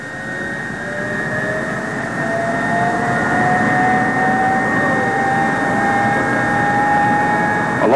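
Convair F-102 jet engines, started on the ground with power and starting gear hooked up, run with a loud steady roar and rising whine that swells over several seconds and holds, alone with no talk.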